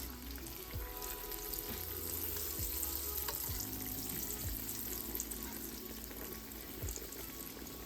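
Fried apple pies made from canned biscuits bubble and sizzle steadily in hot oil, a continuous close frying crackle with no talk.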